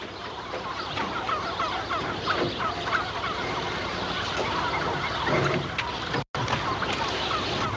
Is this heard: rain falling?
no